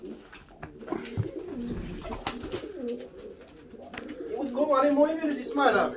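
A pigeon coos in an attic, its soft throaty calls repeating and swelling louder toward the end while people talk nearby.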